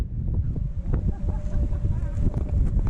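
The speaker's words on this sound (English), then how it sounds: "So windy." Strong gusts of Storm Ellen buffet the microphone on Bamford Edge in a dense, continuous roar that swells and dips, with people talking briefly underneath.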